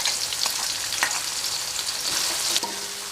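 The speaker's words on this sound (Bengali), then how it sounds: "এটা আমি কিছুক্ষণ ভেজে নেব।" Spices, salt and green chillies frying in a pan, a steady close sizzle with a few sharper crackles and light stirring scrapes throughout, no voices.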